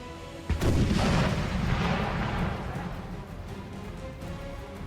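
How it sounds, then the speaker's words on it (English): A single heavy artillery boom in the Napoleonic battle game Napoleon Total War, a sudden loud blast followed by a long rumbling decay under steady battlefield ambience. "That artillery from the enemy landed right underneath that artillery piece, it looks like."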